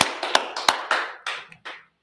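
Audience clapping at a gathering, several close sharp claps in an uneven burst, fading into silence at the end.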